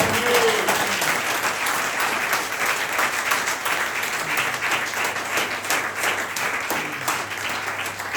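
A church congregation applauding loudly and continuously, dense clapping filling the room throughout with faint voices mixed in.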